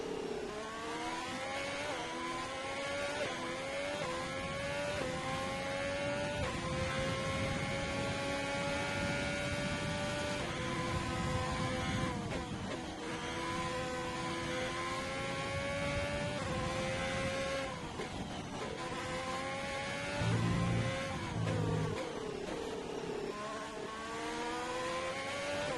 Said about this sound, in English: I'm loving the sound of these cars at the moment. Not as high pitched as the other sound is.